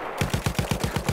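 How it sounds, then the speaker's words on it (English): Machine gun firing a rapid, even burst of about eight loud, close shots in quick succession, with no voices over it. "There's a machine gun."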